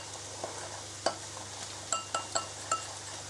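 A spoon mixes a sauce with rice syrup in a bowl, giving soft stirring and several distinct clinks of metal against the dish over a low background hum.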